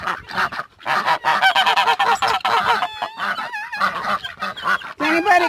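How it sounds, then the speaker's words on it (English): A flock of ducks calls in a loud, busy chorus of overlapping honking quacks, close by and nearly continuous, with a few brief pauses. "There's all the ducks."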